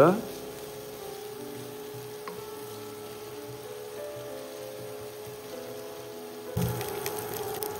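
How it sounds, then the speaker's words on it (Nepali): Ginger garlic paste, about a spoonful, fries in a pan for a Tharu-style snail dish, giving a soft, steady sizzle throughout with a louder burst near the end. "अदुवा लसुनलाई एकछिन मजाले भुट्नुपर्ने हुन्छ"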